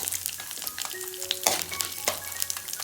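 Chana dal, urad dal and tamarind fry in hot oil with a steady close crackle, broken by a few sharper stirs and scrapes of a spoon in the pan.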